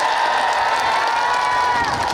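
A live concert audience cheers and applauds for the band, a dense, steady wash of crowd noise close by with whoops and shouts mixed in throughout.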